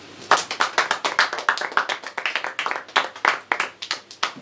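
Rhythmic group clapping from a church congregation acclaiming the Lord, steady fast claps repeating throughout, fairly close and loud with no voices over it.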